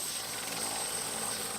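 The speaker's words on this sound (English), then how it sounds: "8 Canadian helicopters have just joined the UN fleet" Canadian UN helicopters flying over Mali give off a steady whirring rotor drone with a thin high whine, moderately loud, constant and free of talk.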